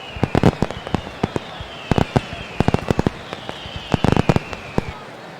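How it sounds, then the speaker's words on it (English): Fireworks burst over a baseball stadium at night in a video game, a rapid series of sharp cracking bangs in clusters with whistling trails rising between them, loud and close. "Fireworks in Naperville."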